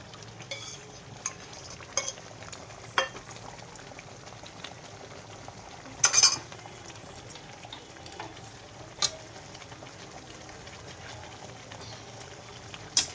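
Thick carrot halwa with added cream is stirred in a pan, giving soft bubbling and scraping over a steady simmering background, with one louder stir burst midway and occasional light clicks.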